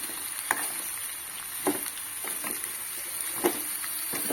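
Sliced wild bitter gourd frying in oil in a home kitchen, a soft, steady sizzle with a few brief stirring scrapes and clinks at intervals, fairly quiet and close, with no talking.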